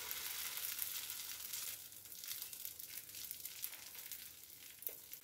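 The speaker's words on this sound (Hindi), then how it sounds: "अब हम पैन में इसे डाल के फैलाएंगे। इस तरह से चम्मच से फैला देंगे।" Breakfast batter spread with a spoon across a hot pan, giving a soft continuous sizzle with faint scraping, fairly quiet and without speech.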